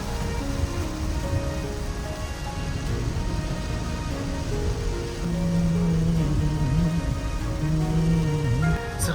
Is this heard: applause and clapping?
no